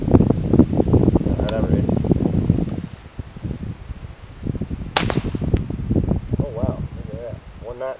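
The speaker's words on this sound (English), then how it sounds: "22 long rifle, 10/22 rifle, 40 grain subsonic ammunition." Suppressed .22 LR shots from a 10/22 rifle firing 40 grain subsonic ammunition through a Mystic X suppressor, a few muted close pops separated by pauses, with someone speaking between them.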